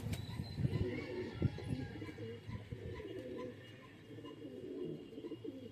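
Pigeons coo softly and continuously, low throaty calls overlapping at moderate distance, with faint background rustling.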